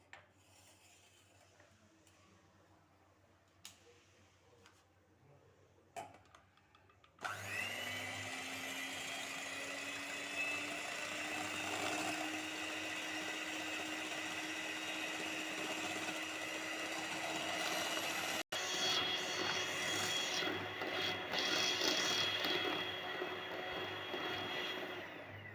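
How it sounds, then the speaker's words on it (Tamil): An electric mixer whirs in a steady, close, high-pitched hum as it beats egg whites for a two-flavour cake, starting abruptly after a few quiet clinks and running continuously with a brief break near the end. "இப்போ நம்ம வந்து ஒயிட் வந்து நல்லா பீட் பண்ணி எடுத்துக்கலாம்."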